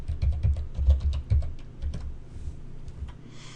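Brisk typing on a computer keyboard, a quick run of close clicking keystrokes that slows and trails off toward the end.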